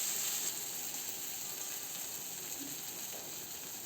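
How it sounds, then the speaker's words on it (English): A garlic cheese sandwich sizzles in garlic butter in a frying pan, giving a steady close hiss with faint crackles throughout and no voices. "you have to drop it into the pan or whatever you use to fry things"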